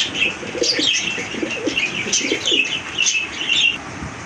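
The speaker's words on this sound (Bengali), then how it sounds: "অস্থির এক জোড়া কবুতর, একদম টকটকে লাল" A pair of bright red pigeons coo and chirp in quick bursts while wings flap repeatedly close by, fairly loud and without any talk.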